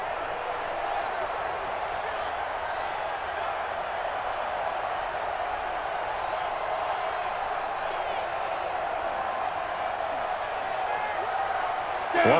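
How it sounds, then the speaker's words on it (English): A stadium crowd in Madden NFL 20 roars steadily through a Giants versus Cowboys game ahead of a big third down, a broad sustained wash of cheering under continuous play-by-play commentary. "the crowd getting into it as we come up on a big third down"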